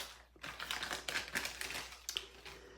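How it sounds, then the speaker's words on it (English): A paper piercer punches through a Christmas card with a run of soft, close crackling taps and pokes, rising and falling in clusters with no talk. "I'm going to pierce a hole right here because I need a place for my gold trim to go through"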